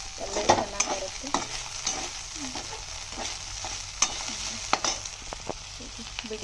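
Vegetables for palya frying in a pan, a steady close sizzle with occasional stirring scrapes and clinks, no talking.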